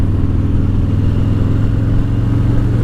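A Harley-Davidson motorcycle is ridden and downshifted through an S curve with light front braking. The engine gives a loud, steady, close rumble throughout with no pauses.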